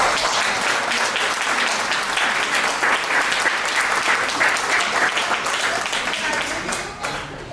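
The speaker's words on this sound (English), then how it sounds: "Round of applause for them." After a performance, the audience gives a loud, sustained round of applause lasting several seconds, thick and even before easing off at the end, with some voices mixed in.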